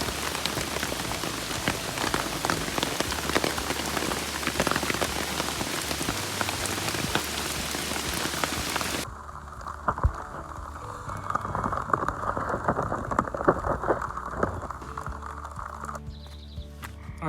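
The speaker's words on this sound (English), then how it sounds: "That's rain. That's rain. You can hear it." Heavy rain pours down during a bikepacking trip on a mountain ridge near Grandfather Mountain, a dense, steady hiss of drops striking surfaces, loud at first and then softer and more spattered, with no voices.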